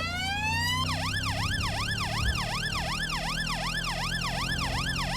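Police car siren in the GTA video game wails with a rising sweep and then settles into a fast, repeating up-and-down yelp, loud and steady over a low engine rumble, with no talking.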